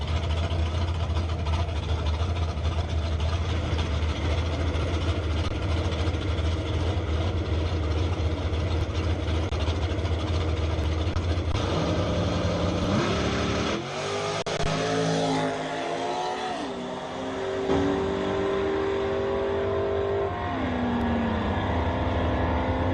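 Pontiac Firebird drag car at an ET bracket drag strip, a steady loud engine drone that shifts midway into changing revving tones with rising and falling pitch, no talking.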